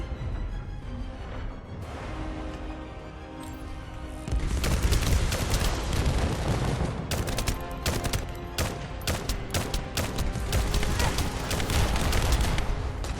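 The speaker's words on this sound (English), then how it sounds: "try to shoot him little by little here" Rapid automatic gunfire from The First Descendant video game: quieter shots at first, then dense, loud bursts of shots with sharp cracks and booming impacts layered over a game soundscape, with a voice talking faintly underneath.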